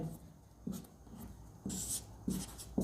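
Pen strokes on paper while solving a Class 10 real numbers maths problem, heard as close, soft scratching bursts in short repeated groups with brief pauses between them.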